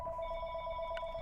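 A phone rings with a single steady electronic tone, held for about a second and fairly faint.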